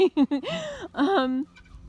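A short, close burst of bird calls: a few clipped clucks followed by a drawn-out warbling crow, loud and near.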